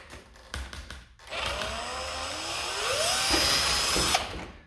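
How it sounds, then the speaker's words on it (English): Small holes are drilled through plastic on a Carbon Cub S2 model plane's landing gear; a few faint knocks give way to a sustained, loud close-up drill whine that winds up and then stops abruptly. "I'm just drilling through the plastic at the top."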